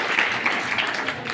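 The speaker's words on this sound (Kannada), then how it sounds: "ಜೋರಾದ ಚಪ್ಪಾಳೆ" Loud, dense applause from a live audience at a Kannada comedy stage show, a steady wash of clapping lasting about a second and a half with no gaps.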